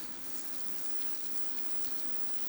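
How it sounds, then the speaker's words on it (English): Chopped onion sizzles and fries steadily in a hot pan, a continuous even crackle close by with no talking. "And so now we're back to cook our onion, just chopped."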